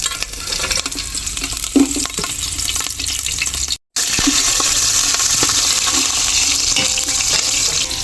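Onions sizzling and frying in ghee for chicken biryani, a loud continuous crackle close up, with scraping stirs and metallic clinks of a utensil against the pan and a brief cut near the middle.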